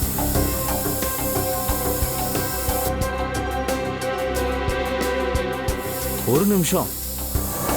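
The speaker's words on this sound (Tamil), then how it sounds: "ஒருவேளை ரத்தம் இங்க செதறி கிடந்ததுன்னா இந்த ஸ்ப்ரே காட்டி கொடுத்துரும்." Forensic blood-detection spray is sprayed at a crime scene as a rapid series of short hissing bursts lasting a few seconds, with a voice speaking briefly afterward.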